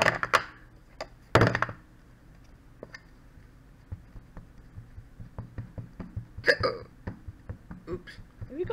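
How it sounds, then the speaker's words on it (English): Hiccups from a person doing a Gelli plate print with oxides, heard as several short, sharp catches scattered through a quiet room with soft handling noises. "Have you got the hiccups?"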